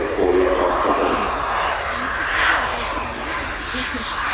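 Delta-wing canard jet aircraft performing at an air show: a loud, continuous roaring engine wash that swells and eases slightly as it passes, with a person talking over it.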